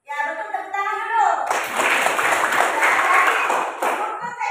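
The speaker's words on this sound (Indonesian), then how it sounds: "Tepuk tangan dulu." A classroom of students in an Indonesian language lesson bursts into dense, sustained applause right after a teacher's voice, the clapping continuing loudly for about three seconds.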